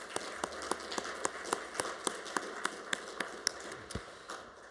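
Sparse, slow hand claps from a small audience at a family medicine lecture, sounding like a few separate people clapping in a quiet hall rather than a full round of applause.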